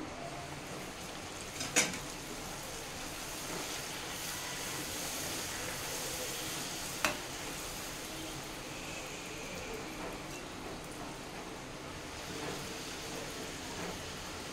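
Puri deep-frying in hot oil gives a steady, fairly quiet bubbling hiss throughout, broken by two sharp clicks near the start and middle, with no voices.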